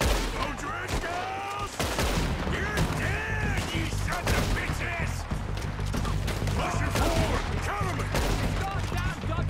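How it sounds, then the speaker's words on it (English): Gunfire from Red Dead Redemption 2 played on PC, a dense run of rapid shots and crashing impacts across the whole stretch, loud and close, with voices talking underneath. "That was a good shot."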